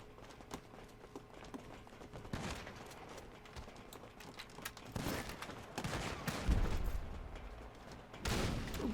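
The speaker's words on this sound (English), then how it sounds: "Someone's shooting at me." Scattered gunfire in a Grand Theft Auto Online adversary mode, muffled shots and volleys popping at irregular intervals over continuous game noise, moderately distant and fairly faint.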